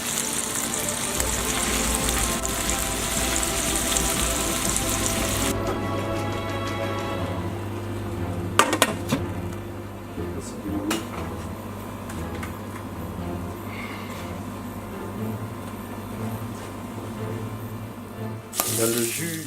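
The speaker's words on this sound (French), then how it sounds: "Là, on va finir de griller légèrement, juste au beurre" Lobster grilling lightly in butter, Breton style, giving a steady broadband sizzle throughout, with a few sharper clicks and pops around the middle and near the end, close and fairly loud.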